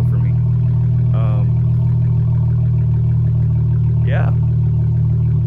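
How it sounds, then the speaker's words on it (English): A V6 Mopar car with a loud aftermarket exhaust idles with a deep, steady, close rumble, and a voice speaks briefly over it. "It's low-key crazy having a louder car."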